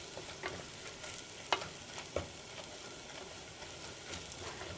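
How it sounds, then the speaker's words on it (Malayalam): Turmeric powder fries in oil in a clay pot while chicken biryani is prepared, giving a faint, steady sizzle with a few soft stirring scrapes and clicks and no talk. "മഞ്ഞൾപ്പൊടി ഇതിനകത്ത് കിടന്നിട്ട് നന്നായിട്ട് മുരിയണം."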